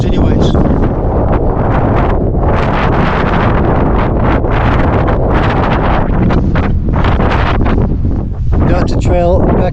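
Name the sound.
strong wind on exposed mountain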